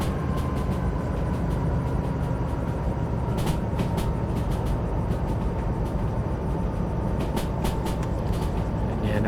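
A train rumbles steadily through the rail sim Derail Valley, a continuous low drone with faint clicks and bursts on top, no talk over it.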